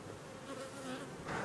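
Winter honeybees from a queenless, broodless hive drone in a steady close buzz that swells slightly toward the end, with no voices present.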